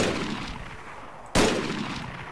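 A sniper rifle in Arma III fires a single sharp, loud shot that cuts through a low background rumble, then trails off with a lingering echo.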